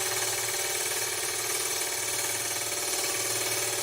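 Lathe turning a small tea light between centres at about 1200 RPM, a steady, dense buzzing whine with a fast rapid pulse running throughout, close and continuous, with no voices.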